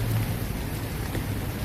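Steady rain pours down all around outdoors in Golden Gate Park, a dense, even wash of drops with no voices, close and continuous for the whole stretch.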